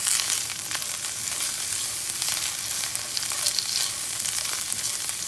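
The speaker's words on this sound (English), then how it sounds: "So you're going to just saute this up a little bit." Frozen mixed carrots, green beans and corn sizzle in a hot pan while being sautéed for fried rice, giving a bright continuous crackling hiss with occasional stirring bursts, close and steady, no voices.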